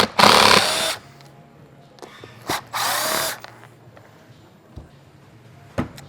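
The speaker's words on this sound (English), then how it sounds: "So let's begin by taking the screws out." Cordless power drill backing screws out of the plastic trim on a golf cart seat cushion, two short whirring bursts followed by quiet handling clicks and a brief final buzz.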